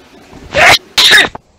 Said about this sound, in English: Got a sneeze.